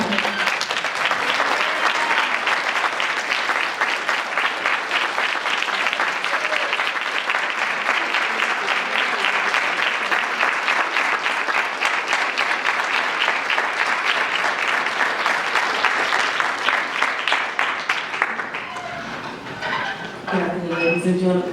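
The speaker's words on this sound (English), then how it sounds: "So I want you to give a great, loud round of applause." Loud, sustained applause from a standing audience at a college rally, a dense wall of clapping that carries on for many seconds before fading as a voice begins speaking at the end.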